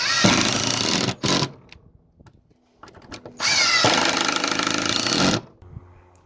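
A power drill drives screws in repeated loud whirring bursts of a second or more each, separated by short pauses and a few small clicks and knocks.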